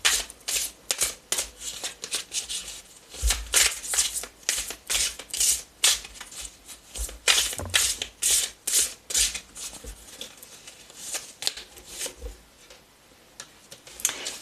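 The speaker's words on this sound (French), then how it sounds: "Je te tire quelques cartes conseils supplémentaires." Oracle advice cards are shuffled and drawn by hand in a quiet room, giving repeated close, crisp riffling and slapping bursts in an uneven rhythm that carries on without any voice.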